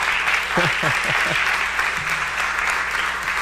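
A congregation at a bilingual church service applauds in a steady, even wash of clapping while a low voice speaks briefly over it.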